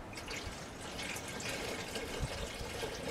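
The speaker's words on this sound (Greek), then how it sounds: "Τώρα θα ρεώσουμε την υπόλοιπη σάλτσα με νερό" Water poured into leftover tomato sauce in a pot for cooking pasta with rooster stew, a faint steady trickling pour heard alone.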